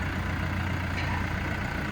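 A new 2024 Basak tractor runs steadily while being unloaded from a delivery, giving a continuous low engine drone with broadband mechanical noise and no talking.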